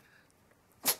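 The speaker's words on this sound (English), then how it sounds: "That is a whole lot of sneezies." A small Pomeranian dog lets out one sharp, close sneeze after a near-silent pause, brief and distinct.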